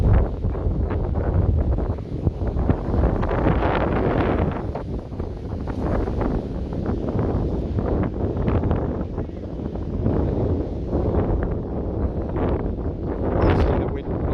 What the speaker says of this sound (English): You see the wind blowing on the waves there.